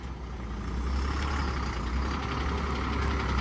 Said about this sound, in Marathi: बोरिवली ते शिरोडा न्यू करकरीत नंदादीप निघालेली असा बोरिवलीतून.